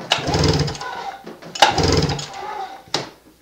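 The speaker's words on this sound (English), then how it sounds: "we're going to go full throttle and we're going to pull it over 5 times" A flooded engine on a hard-starting triple sled, held at full throttle with the spark plugs removed, is pulled over twice, giving two loud, close, rasping cranking bursts with a short gap between them.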